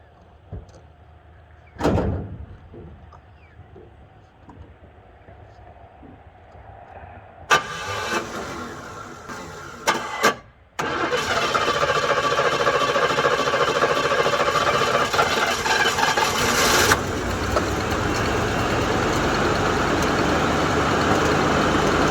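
A 1983 Buick Riviera convertible, a barn find, with a door clunk and a short starter crank before the engine catches with a roar. It then settles into a loud, steady idle, recorded close up with no talking.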